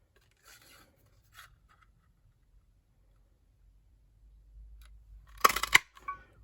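Scissors snip through grey cardstock in a short, close burst of crisp cuts near the end, after a few faint rustles and handling sounds in an otherwise quiet room.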